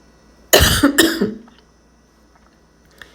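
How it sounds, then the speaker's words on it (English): A single close, harsh cough with a throaty double burst, followed by quiet room tone. "sorry if I just coughed"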